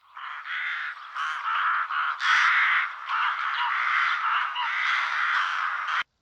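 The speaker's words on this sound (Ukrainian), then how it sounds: "Правильно, це грак." A rook calls with a run of harsh, hoarse caws, loud and close, repeating in uneven bursts over about six seconds with no other sound around it.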